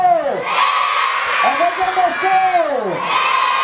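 A crowd of school children in an audience cheers and shouts after a primary-school dance performance at a Don Bosco school event, with loud, continuous overlapping high voices and whoops throughout.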